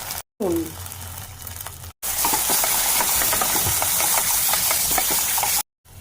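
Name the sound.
spice paste frying in a pan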